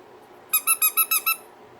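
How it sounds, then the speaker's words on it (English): A rubber squeaker from a torn-apart dog toy squeaks six times in a quick, even rhythm, loud and close, with quiet room noise before and after. "Oh, there's the squeaker."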